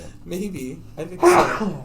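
A single sharp sneeze bursts out near the end of a short stretch of close conversational talk, loud and abrupt over the voices.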